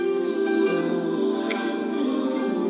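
A mashup blending two songs plays as steady, smooth soul-jazz music with sustained low chords and warm tones, heard alone at moderate level without talking.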